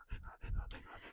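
Nala, an abandoned shelter dog in Tenerife, pants in short rhythmic bursts, close and fairly loud, with a faint whimper mixed in.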